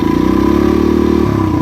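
A dirt bike engine running steadily close by, a loud rough idle with a constant low throb that slightly shifts pitch near the end.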